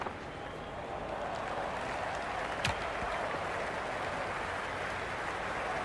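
A stadium crowd at a T20 World Cup match in the Cricket 26 video game keeps up a steady, broad murmur from the stands, with a brief sharp sound partway through.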